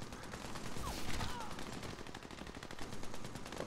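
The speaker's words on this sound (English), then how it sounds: "LMG, that's what I'm using." A light machine gun fires continuously in the Army of Two: The Devil's Cartel video game, with a rapid, steady stream of rounds held at a moderate, unbroken level.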